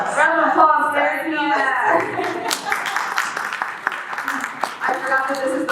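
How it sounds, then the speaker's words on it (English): An audience at a live film festival event gives scattered applause, a few close claps and light laughter mixed with talking voices, fairly faint and uneven. "Round of applause there."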